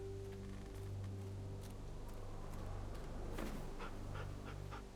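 A dog pants softly in the video game The Walking Dead, quick rhythmic breaths under a low steady hum, joined by faint rustling and scattered light clicks near the end.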